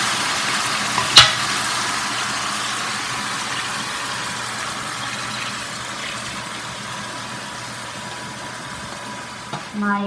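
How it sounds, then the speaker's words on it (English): Four grated green apples sautéing in butter in a pan, a soft steady sizzle with a sharp utensil knock near the start and light clatter at the end, close and otherwise fairly even. "My apples are sauteing in the butter"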